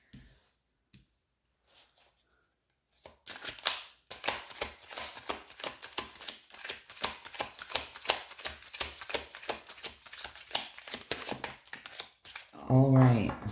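Tarot cards being shuffled by hand: a long run of rapid, close riffling flutters after a few quiet handling sounds, with a brief burst of voice at the end.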